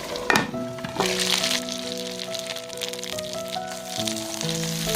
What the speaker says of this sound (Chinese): 先煎2分钟